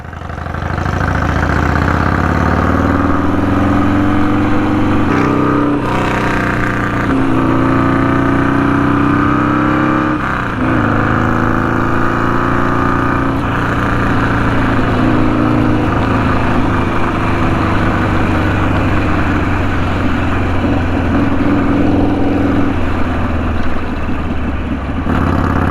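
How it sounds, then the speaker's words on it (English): A custom Harley chopper motorcycle being ridden, its engine a loud, continuous low rumble with rising and falling revs, close and steady throughout, no talk. "absolutely amazing to be out on this bike"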